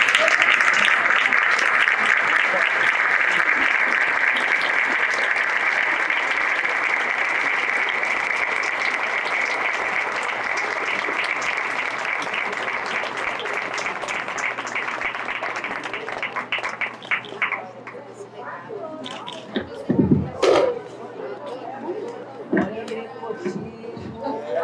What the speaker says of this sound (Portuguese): merece um aplauso de pé